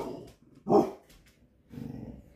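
Dogs in a multi-dog household barking indoors: a loud sharp bark stands out, followed by growly, grumbling vocalizing, with quieter yips and noise between.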